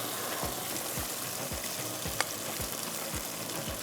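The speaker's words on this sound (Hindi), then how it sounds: "अब ये चिकन डालते हैं" Marinated yogurt chicken in a pan of masala with ground cardamom, red chilli and salt, sizzling and frying steadily, with regular stirring scrapes at a slow, even rhythm and no talking.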